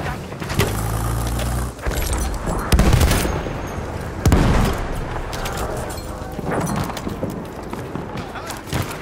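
Grenade blast and gunfire in Battlefield 1, a few sharp booms followed by bursts of rifle and machine-gun fire, loud and layered with in-game voices shouting over the battle.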